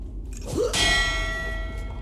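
A bell struck once in a mining town in a fantasy role-playing game, a loud metallic clang that rings on with a long shimmering decay, heard alone.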